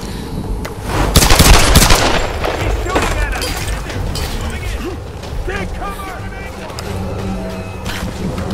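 Enemy gunfire in the Tomb Raider video game, with bursts of rapid shots and heavy impacts loudest early on, then scattered mechanical clatter while a player shouts over the din.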